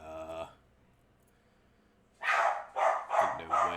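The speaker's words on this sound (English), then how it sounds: "My dogs are barking." Dogs bark indoors, a burst of four sharp barks in quick succession after a brief voice and a pause of near silence.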